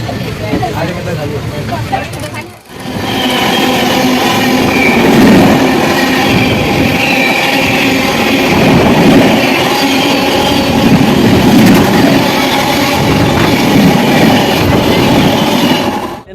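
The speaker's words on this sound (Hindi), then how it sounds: "फाइनली 2 मिनट हॉल्ट के बाद डिपार्चर चुका अपनी टपड़ी जंक्शन से।" The Delhi Haridwar Express pulls out of Tapri Junction with a loud, steady rumble of rolling rail cars and clacking wheels, close by, continuing without break after a brief dip, with people talking over it.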